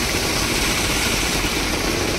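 A loaded farm tractor's engine runs continuously, a loud, close, steady mechanical drone with no breaks.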